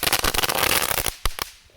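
Three crackling ball fireworks lit together before the Fourth of July burst into a dense, loud storm of crackles that thins out into a few separate sharp pops near the end.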